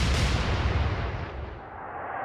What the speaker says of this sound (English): Oh, that was a good salvo.